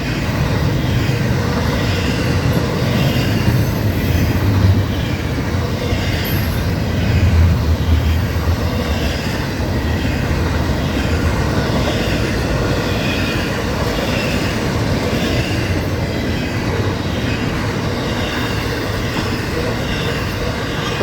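An intermodal freight train on the FEC railway rumbles steadily past up close, a continuous heavy roar of rolling cars and clattering wheels with no break.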